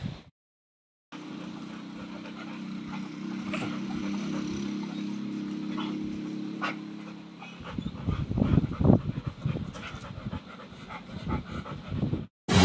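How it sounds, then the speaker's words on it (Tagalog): A Labrador dog pants steadily and close for several seconds, then gives soft whimpers and rustling movement, with no one talking. "Ito yung aso ng pinsan ko na isang Labrador din."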